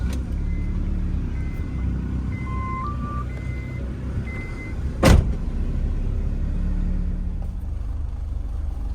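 A swapped Acura Integra drives with the windows down and sunroof open, giving a steady low engine rumble and wind noise, with a brief sharp knock midway and faint tonal beeps.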